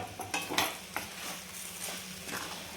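Coriander being stirred into a spiced potato filling for aloo paratha, soft scraping and a few light spoon clinks against the pan, faint and close, no talking.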